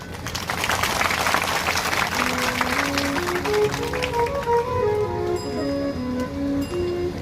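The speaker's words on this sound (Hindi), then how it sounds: "उनका स्वागत होना चाहिए तालियों से" A seated audience at a spiritual discourse claps loudly and densely to welcome a guest, then the applause thins out as melodic instrumental notes rise and carry on alone.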